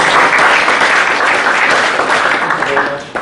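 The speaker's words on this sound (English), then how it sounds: "We have another round of applause for" An audience at an academic talk on Indonesian and Dutch colonial culture applauds, a dense, even wash of clapping that carries on steadily and tapers off at the end.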